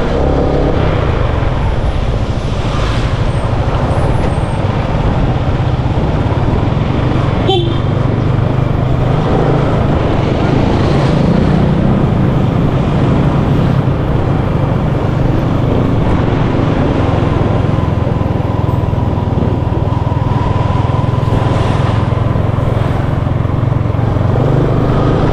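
Motorcycle engine running loud and close throughout, a steady rough drone that swells slightly as it is ridden in, with no talking over it.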